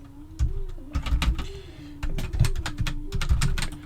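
Computer keyboard typing in bursts of rapid, close clicks and key taps, with short pauses between runs and a faint steady hum underneath.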